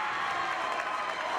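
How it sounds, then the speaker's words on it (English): A crowd at a boys' high school basketball game cheers for a player, a steady wash of voices and shouts held at moderate loudness for a brief moment, somewhat distant and blended. "22 gets a big cheer."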